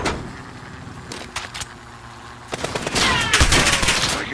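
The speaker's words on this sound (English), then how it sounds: "Taking fire over here." Gunfire in the video game Modern Warfare: scattered shots and bursts crack out over a busy battlefield, building into heavier, louder rapid fire toward the end.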